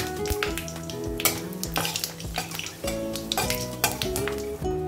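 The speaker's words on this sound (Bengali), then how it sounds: "তেল গরম হয়ে গেছে, পাঁচফোড়ন ছেড়ে দিলাম আর দুটো শুকনো লঙ্কা ছেড়ে দেব" Panch phoron and dried red chillies sizzle in hot mustard oil with a bay leaf, a close, steady crackle of frying with brief spits and pops throughout, with no talking.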